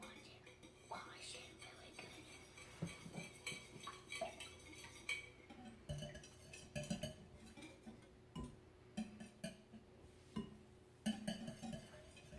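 Crepe batter with melted butter being whisked in a bowl: quiet, irregular clinks and scrapes of a utensil against the dish, soft and close, with faint whispery sounds in the background.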